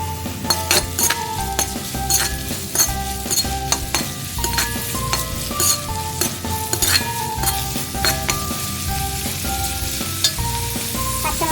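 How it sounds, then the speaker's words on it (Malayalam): Onion, green chili and curry leaves sautéing in hot oil in a pan for an egg curry, a steady close sizzle with frequent spoon stirs and clinks against the pan throughout, no talking. "അതിലേക്ക് ചീനച്ചട്ടിയിൽ എണ്ണ ഒഴിച്ച് വാട്ടാം."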